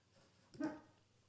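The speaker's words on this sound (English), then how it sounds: "Sorry, my dog is in the background." A dog barks and whimpers once, a short faint burst in the background of an otherwise quiet room.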